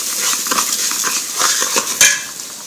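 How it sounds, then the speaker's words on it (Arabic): Minced garlic stirred in a pot for orzo and vermicelli soup, a busy scraping and clinking of a spoon against the pot over a soft steady sizzle, close and moderately loud with no talking. "ربع معلقه توم مفروم. هشوحهم وبعد كده تستوي، شم ريحه التوم"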